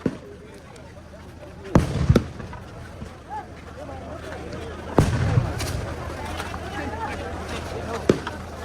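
Several sharp booming tear gas shells are fired at irregular intervals at a farmers' protest on the Shambhu border, loud and echoing, over a constant crowd murmur and noise.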